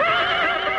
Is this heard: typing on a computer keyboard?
no